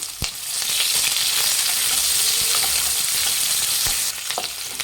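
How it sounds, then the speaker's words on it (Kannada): Chopped onions and a bay leaf frying in hot oil for Hyderabadi chicken masala, a steady, loud, close sizzle with a few faint utensil clicks and no talking. "ಕಟ್ ಮಾಡಿ ಈರುಳ್ಳಿನ ಫ್ರೈ ಮಾಡಬೇಕು"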